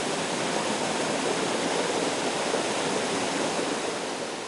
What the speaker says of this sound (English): It is a strong waterfall, as you can see when we look down from the vantage point